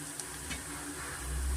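Onion with ginger-garlic paste frying steadily in a pan, a soft continuous sizzle with a couple of faint stirring scrapes, close and fairly quiet.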